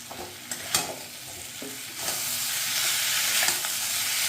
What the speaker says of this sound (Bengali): এবার এখানে ভেজে রাখা আলু ফুলকপিগুলো দিয়ে দেবো। দিয়ে ভালো করে মশলার সাথে একটু কষিয়ে নেব।